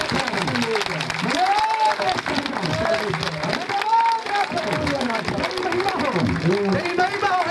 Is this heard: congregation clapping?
yes